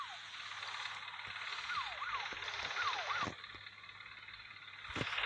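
Ambulance siren from the Car Parking video game, a wailing electronic siren with rising and falling sweeps repeated over several seconds, fairly faint under low engine hum, with a couple of sharp clicks.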